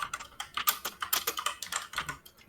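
Typing on a computer keyboard, a fast, uneven run of crisp key clicks heard close up with nothing else around it.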